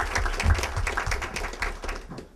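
An audience at a community gathering bursts into steady applause, many hands clapping in a dense, sustained patter close by that tapers off at the end.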